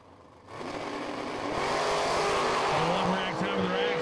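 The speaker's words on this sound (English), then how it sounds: "The door car and the dragster." Door car and dragster launching side by side at a bracket drag race, engines roaring loud and near after a quiet start, building into a sustained high-revving blast with tire noise.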